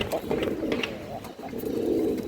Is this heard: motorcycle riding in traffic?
no